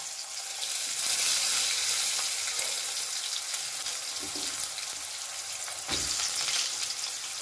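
Diced potatoes fried over medium flame with black cumin and radhuni seeds for a spinach ghonto, a strong continuous sizzle broken by occasional scraping stirs.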